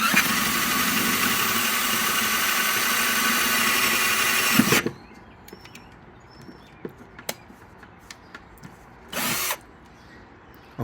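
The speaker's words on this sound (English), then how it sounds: "I'm going to try to use this drill bit to try to drill a little hole inside" A power drill bores a small hole into a vintage Australian drive-in speaker, whining loudly for about five seconds before stopping, followed by scattered clicks and a brief second burst of drilling.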